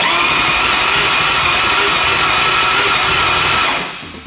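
A four-rotor engine in a Volvo cranks over on the starter with a loud, steady high-pitched whine and whir that holds evenly, then stops abruptly near the end without firing.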